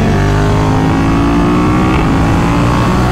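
A Ducati Monster 937 motorcycle's two-cylinder engine runs loud and close, with a continuous throaty drone rising and holding through a steady rev, no voices over it.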